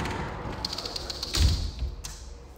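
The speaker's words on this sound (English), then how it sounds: "Let me shut the door." A door in a Scotbilt Legend Express manufactured home is pushed shut, giving a single soft thud near the middle, with a few light taps and rattles around it in a quiet room.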